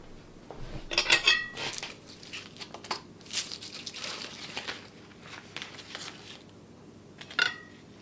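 A knife scrapes and clinks against a toasted sourdough English muffin and plate while butter is spread, giving close, irregular scratchy strokes and a few bright metallic taps with no talk.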